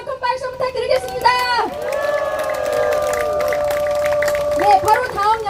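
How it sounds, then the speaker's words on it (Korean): Crowd at a political street rally in Songdo cheering and shouting, with a long sustained raised voice ringing over the noise; loud and close, with voices throughout and little clear clapping. "여러분 다시 한번 큰 박수 부탁드리겠습니다."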